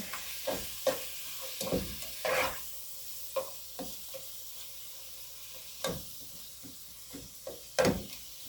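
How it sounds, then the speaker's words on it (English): A spoon scrapes and knocks around a pot of cheeseburger soup ingredients with garlic powder, a dozen irregular stirring clacks over a low, continuous sizzle, close and fairly quiet. "we're just going to get all this mixed in"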